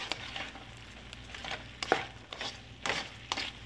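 A stir fry sauce mixture is stirred on a plate, with repeated soft scraping and clinking strokes in an irregular rhythm, close and moderately quiet, with no voices.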